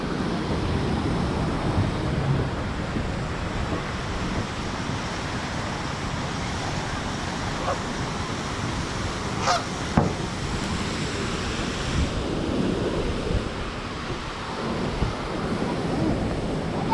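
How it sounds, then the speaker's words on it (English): A half man-made, half natural waterfall in downtown Greenville, South Carolina, a steady broadband rushing roar of falling water with a faint click or two, continuous and near, heard without talk. "It's sort of a half man-made, half real waterfall."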